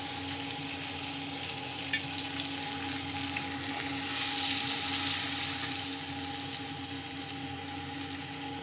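Spiced paste for a pabda fish curry with potatoes sizzles and bubbles in hot oil, a steady loud crackling hiss that continues without a break, with no talking.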